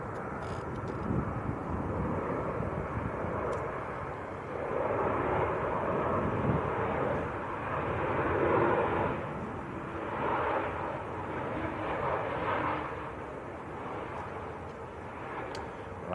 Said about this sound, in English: Ryanair from Brussels.